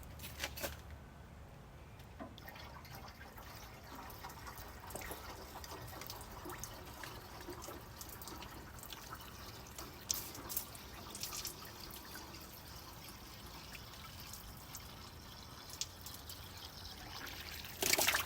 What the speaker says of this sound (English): Okay, the radiator is now full.